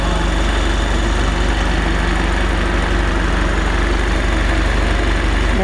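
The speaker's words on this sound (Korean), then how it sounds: "엔진 소리 일정합니다." A used BMW 420i Gran Coupe First Edition (G22) idles with the hood open, a steady, even low rumble that stays constant and close throughout.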